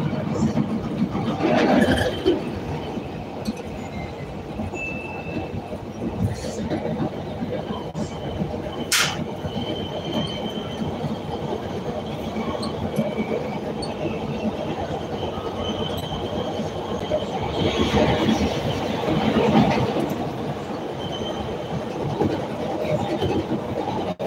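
A Chicago CTA Red Line train rolls steadily between Fullerton and Jarvis, a constant rumble of wheels and cars with sharp metallic squeals rising now and then, heard from inside the car.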